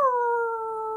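A person imitates a wolf howl with a single sustained, smooth tone that holds steady for about a second, close and clear with nothing else audible.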